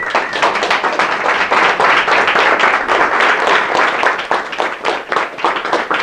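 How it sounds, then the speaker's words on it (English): A crowd gives a loud, steady standing ovation for a pitch presenter, a dense round of applause that carries on for several seconds. "So if we could give a big standing round of applause for Jake Fisher."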